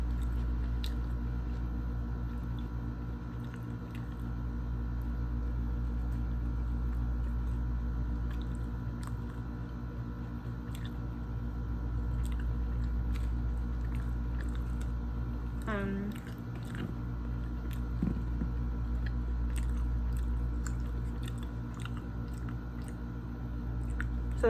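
Someone chews and eats a Mexican torta sandwich indoors, with soft, wet bites and squishy chewing close to the mic over a steady low background hum.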